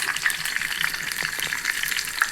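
Red onion frying in a hot pan with mustard and fenugreek seeds, a steady bright sizzle with a few soft stirring scrapes, close and continuous with no voices.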